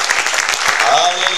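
Dense, loud applause from a church congregation during a Spanish-language sermon, a steady wash of many hands clapping together with voices mixed in.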